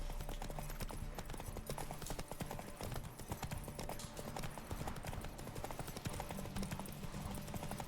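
Horse galloping in The Witcher 3 during a race, a fast continuous clip-clop of hooves at steady rhythm under game music and ambience, with a brief faint snort.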